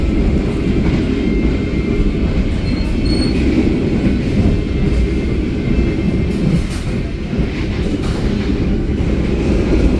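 A KA Gunungjati passenger train rumbles loudly and continuously with deep wheel and carriage noise as it stops at a busy station, with faint squeals over the low roar; no talking.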